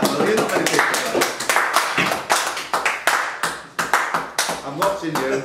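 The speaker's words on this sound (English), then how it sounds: "Give me a little round of applause for that." A small audience at a British quiz championship gives a short round of applause, sparse, distinct hand claps that come in uneven bursts and pauses, close and fairly loud.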